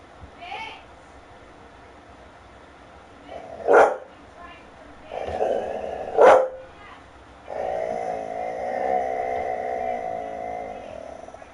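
A dog barks and growls in a few loud bursts, with a person talking in between and over them.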